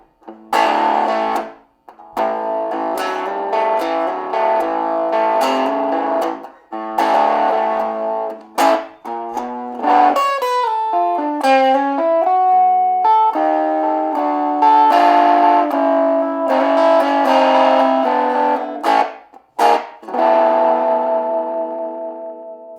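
A distorted electric guitar played through a tiny mini amp with a 2-inch speaker, thin, boxy tone, chords and short melodic runs, heavy with effects and a touch of echo, no voices.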